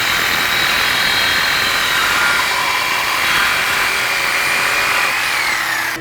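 A power tool cuts through a stainless steel exhaust Y pipe in a car fabrication shop, giving a loud, steady, high-pitched grinding whine that runs unbroken for the whole stretch with no talk over it.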